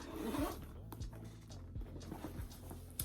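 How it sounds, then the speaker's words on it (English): The zipper on a Bolzano handbag is pulled open in a series of short, close rasping strokes, with a voice talking faintly underneath. "it has the zipper to keep everything closed. And when you open it all the way up"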